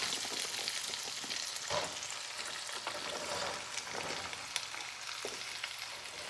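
Turnips and carrots fry in olive oil with a steady close sizzle, and soft stirring scrapes and occasional louder crackles rise above the hiss.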